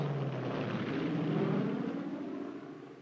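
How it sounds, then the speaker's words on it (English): Military transport planes in formation fly over during a cargo drop, a steady broad engine drone that swells slightly then fades as they pass, loud and continuous with no voices. "This continues until all the planes in the formation have made their drops."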